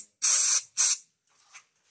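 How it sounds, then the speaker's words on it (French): Two loud, close hissing bursts of aerosol brake cleaner sprayed into a McCulloch brush cutter that won't start, one long and one short, followed by a faint brief puff and silence. "je vais essayer de lui mettre du nettoyant de frein"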